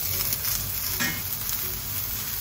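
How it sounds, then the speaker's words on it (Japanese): Food sizzles and fries in a pan while a home bento lunch is cooked, each side grilled for a minute and a half, giving a steady, close hiss with faint crackles and no talking. "これは片面1分半ずつ焼くね"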